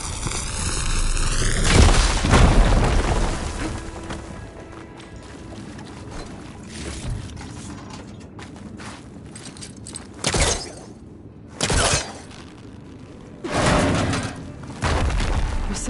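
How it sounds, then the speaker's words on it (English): A fire gleam is blown up in the action game Horizon Forbidden West, with a heavy booming blast and rumbling debris early on, followed by several short, sharp thuds and bursts. "Should be able to blow up that fire gleam."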